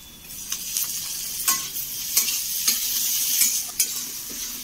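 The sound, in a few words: tomatoes frying in a pan for egg curry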